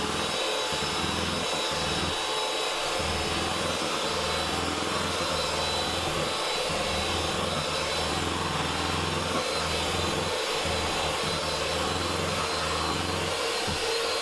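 An electric hand mixer whirs steadily while beating cake batter, a continuous loud motor drone with brief dips in pitch as the beaters shift through the mix, with no talking over it.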